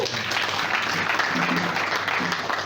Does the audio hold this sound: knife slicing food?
no